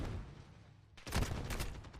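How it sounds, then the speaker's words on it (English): A rapid burst of gunfire in a Call of Duty match at a Challengers Elite 2023 esports event, erupting suddenly after a low rumble and crackling on in quick repeated shots. "He hears the gunshots coming through"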